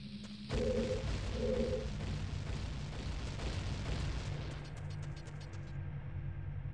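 Bomb flower blasts from The Legend of Zelda: Ocarina of Time in Dodongo's Cavern: a loud, sudden explosion rumbling into a sustained roar alongside game tones, fading slightly toward the end.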